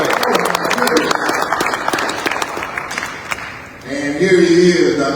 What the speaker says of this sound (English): Give this Sutton a big round of applause.